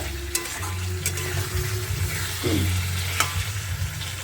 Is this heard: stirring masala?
yes